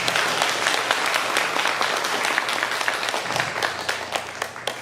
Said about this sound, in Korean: 우리 한번 그런 의미에 서로 박수 한번 하면 좋겠습니다.